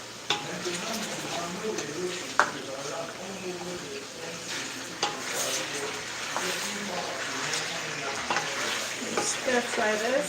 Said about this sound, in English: Stir fry this. And I added in like a little bit of garlic and onion.